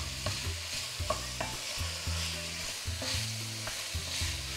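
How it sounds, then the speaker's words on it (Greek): Pork, sausage, onion and garlic sizzle in a pan while a utensil stirs them, giving repeated scraping strokes over a steady fry, close and without speech. "Ανακατεύω."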